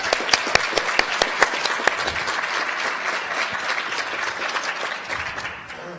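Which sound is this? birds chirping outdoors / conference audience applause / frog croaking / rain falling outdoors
conference audience applause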